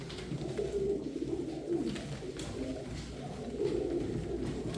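Several pigeons coo in soft, throaty rolling phrases, overlapping and repeating close by in a quiet space.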